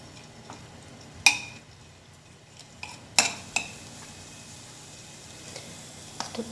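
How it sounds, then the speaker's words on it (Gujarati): Finely chopped ginger in a little hot oil in a wok, heard as a faint sizzle under sharp clinks and scrapes of a spoon against the pan, a few loud knocks standing out. "તેલ ગરમ થઈ ગયું છે તો આ રીતે આદું ઝીણું સમારીને નાખીશું"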